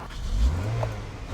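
Toyota Corolla engine with a check engine light, previously a no-start with no fuel pressure, catching and idling roughly up close, a brief low rumble that swells then settles unevenly.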